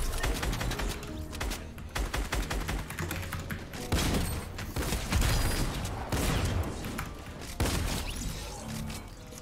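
Rapid, sustained gunfire from a shooter video game, bursts of automatic fire and shots hitting walls, loud and dense throughout with no pauses and no talk over it.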